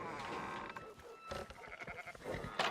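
Sheep bleating in the Red Dead Redemption 2 video game, several wavering calls from a nearby flock over a steady outdoor background, with brief voices mixed in.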